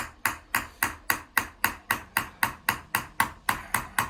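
A hammer taps steadily on a metal vessel being chased, with about fifteen evenly spaced, close, sharp strikes, each ringing briefly before the next.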